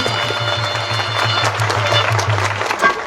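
Crowd clapping at an Uttar Pradesh election campaign gathering to welcome an elderly guest, a dense, steady patter of applause with a low droning hum underneath and a few voices mixed in.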